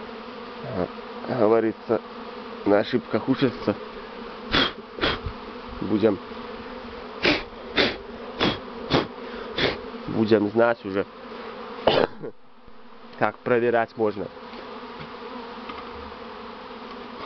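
Honeybees buzz around hives during a first swarm of the season, a steady hum running beneath someone talking at length in choppy phrases with short pauses.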